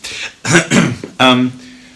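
A man with a cold coughs a few times up close, rough throaty bursts, then a short vocal sound trails off.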